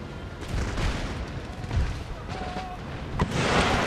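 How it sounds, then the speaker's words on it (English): Artillery rumbles in a Darthmod Empire: Total War battle as deep, muffled booms and scattered cracks over a dense battlefield din, with a couple of brief sharper hits. "Artillery is doing something."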